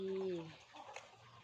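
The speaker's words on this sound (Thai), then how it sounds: "อันนี้ก็คือฟาร์มไก่ด้วยค่ะ ข้างในมีไก่" Chickens at a chicken farm, with a loud close call or crow at the start fading into softer clucking and farmyard murmur, with a voice faintly in the background.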